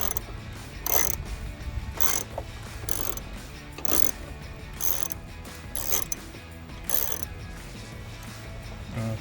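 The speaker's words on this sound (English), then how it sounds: "we're going to have a 5/16 wrench. And we're going to take this off." A 5/16 wrench ratcheting a bolt loose on the intake of a 2015-2022 Dodge Challenger, in repeated short bursts of close, crisp clicking separated by brief pauses.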